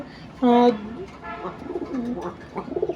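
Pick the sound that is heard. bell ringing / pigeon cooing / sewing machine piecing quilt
pigeon cooing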